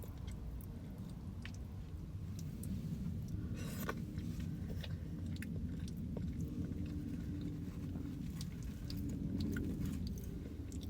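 Quiet, close chewing of shrimp, soft wet crunches and squishy bites repeating steadily with small clicks, no talking.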